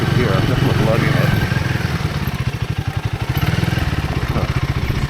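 Royal Enfield Himalayan 450 single-cylinder engine lugging at low speed in second gear, a deep, choppy, uneven chugging pulse that stays close and steady throughout, with a rider's voice talking over it.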